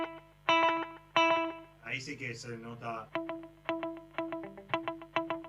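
Electric guitar with a rockabilly slapback echo, each picked note trailed by a quick repeat, played in a steady rhythm with a short spoken phrase in the middle.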